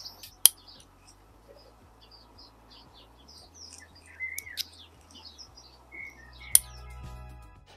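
Clips on a dog muzzle opening and closing outdoors: two sharp, close snaps about six seconds apart, separated by quiet stretches filled with birdsong and a faint low hum.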